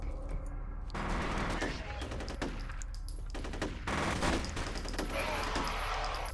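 Automatic gunshots in the video game F.E.A.R., repeated rattling bursts and single cracks, fairly quiet overall and scattered over several seconds against a steady game background.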